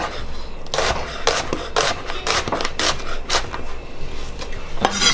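A kitchen knife slices an onion on a cutting board with close, crisp, repeated cuts, each a quick rasping chop landing in an uneven rhythm with short pauses between strokes.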